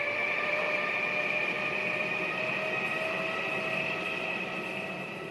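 An electric Mumbai local EMU train in a mobile train game runs at full throttle, giving a steady, continuous whining motor hum over a low rail rumble, with no voices.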